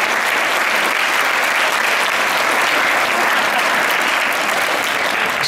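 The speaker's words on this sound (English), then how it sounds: "Can we give Steve Jones a round of applause?" An audience gives sustained applause for Steve Jones at an award presentation, a dense, steady wash of many hands clapping at full volume throughout.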